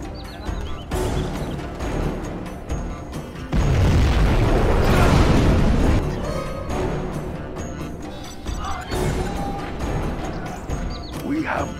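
A nuclear missile strike in the real-time strategy game C&C Generals Zero Hour lands as a long, loud, rumbling blast. It swells and then slowly fades beneath busy battle effects and in-game unit voice lines.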